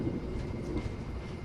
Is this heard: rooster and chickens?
no